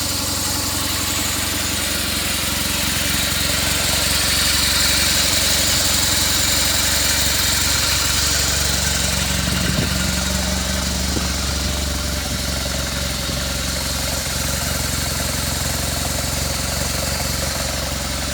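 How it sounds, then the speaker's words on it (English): A 2009 BMW R1200GS motorcycle engine idles steadily nearby, a low rumbling exhaust note with constant vibration and no voices. "I quite like the exhaust. It sounds meaty"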